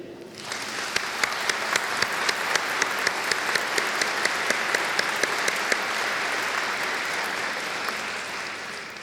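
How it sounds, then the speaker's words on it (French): An audience at the inauguration of a road transport company's site applauds. After a brief quiet start, many hands clap steadily and loudly for about eight seconds. "s'il vous plaît, on peut l'applaudir."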